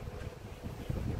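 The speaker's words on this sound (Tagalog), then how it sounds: "Mahangin po ngayong umaga." Wind buffets a microphone in a steady, low rumbling roar with gusty fluctuations and no voices.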